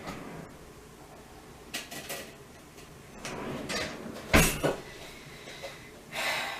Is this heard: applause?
no